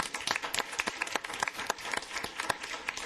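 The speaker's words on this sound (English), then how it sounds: "So with that, a round of applause." Audience applause at a regular council meeting: dense, steady clapping from a room full of people, fairly faint and continuous throughout with no talking over it.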